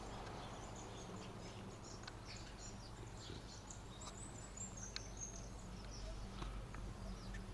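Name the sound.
birds chirping in a quiet village during lockdown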